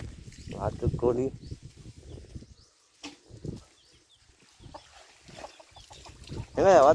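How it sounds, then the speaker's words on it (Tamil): Chickens in a village yard, a few short clucks and a wing flutter heard near and fairly faint among quiet gaps, with some voices speaking. "வாத்து கோழி"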